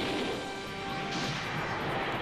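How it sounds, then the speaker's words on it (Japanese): A grenade launcher shot in the mecha strategy video game Super Robot Wars Z lands as a dense, crashing blast that smears into a continuous roar of battle effects. "仕留められるか、グレネードランチャーで"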